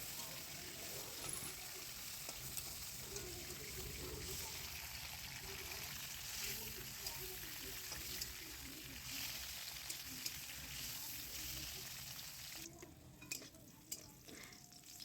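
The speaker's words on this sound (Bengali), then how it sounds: "কড়াইতে একটু তেল দিয়ে উচ্ছেগুলো আমি লাল লাল করে ভেজে তুলে রাখবো।" Bitter gourd fries in a little oil in a kadai, a continuous soft sizzle with occasional stirring clinks, quiet and close, with a voice talking faintly over it at times.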